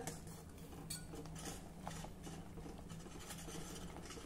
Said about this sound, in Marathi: हे बेसन घालायचं आहे आणि चमच्यानी सतत ढवळायचं आहे।